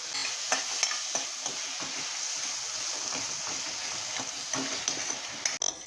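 Two tomatoes and salt sauté in a pan and are stirred for a palak paneer bhurji, producing a continuous close sizzle broken by repeated scraping clicks of the spoon and a clatter at the end.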